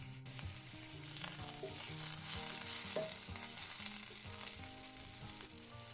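Vegetables for yakisoba (Japanese stir-fry noodles) sizzle loudly in a hot pan, a steady dense frying hiss broken by scraping and stirring clatter, close and with no talking.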